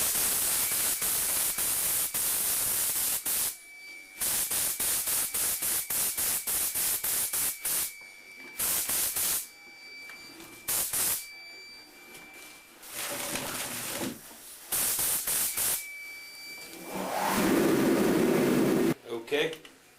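A spray gun mists light coats of PVA release agent onto a fiberglass mold: repeated bursts of airy spray hiss, each lasting a second or several, separated by short pauses; a steady whine runs through some of them.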